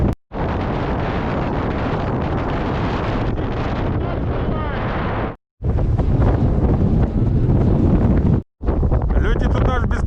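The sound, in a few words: strong wind on frozen Kapchagay reservoir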